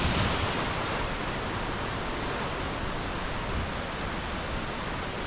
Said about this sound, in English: There's that same waterfall.